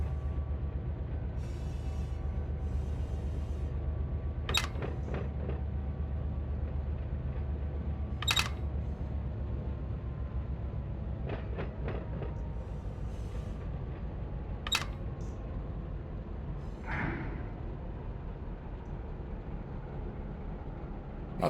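Train cars crash and bang in the Run 8 Train Simulator v3 game, a low steady rumble broken by a handful of sharp, scattered metallic clanks and knocks.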